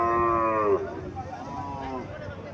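A six-month-old Sahiwal bull calf at a Comilla cattle market gives one loud, close moo, then a second, softer lowing call, with faint market noise behind.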